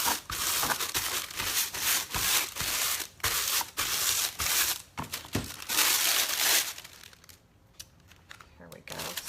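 Crinkled aluminium foil is scrubbed onto adhesive on a pumpkin in quick, rhythmic rubbing strokes with crisp crinkling, close and fairly loud, and it quiets toward the end.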